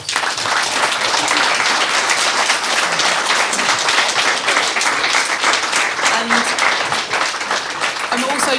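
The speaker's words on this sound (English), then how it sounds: "Give her a round of applause." A large audience applauds steadily, a dense, loud wash of clapping that continues throughout.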